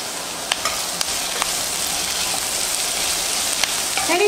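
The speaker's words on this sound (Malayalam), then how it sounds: "അപ്പോൾ ഇതൊന്ന് സോഫ്റ്റ് ആകുന്നത് വരെ ഞാൻ വഴറ്റി കൊടുക്കട്ടെ" Chopped onions and capsicum sauté in a hot pan for restaurant-style chilli chicken, giving a steady, close sizzle broken by a few sharp clicks of a spatula stirring, with no voices.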